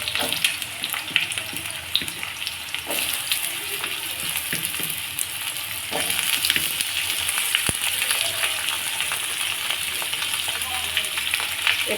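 Papaya and vegetables frying in oil, a steady broadband sizzle with scattered crackles and occasional stirring knocks, close and continuous without speech.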